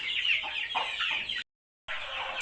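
Chickens of good breeds at Lert Siri Farm in Nan, Thailand cluck and squawk close by in rapid, overlapping bursts, broken by a short total silence before the clucking resumes.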